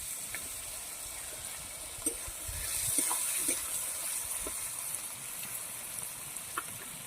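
Ground onion paste frying in oil in a pan for a Bengali fish curry, a soft steady sizzle and hiss with occasional faint pops and clinks, quiet and close with no talk.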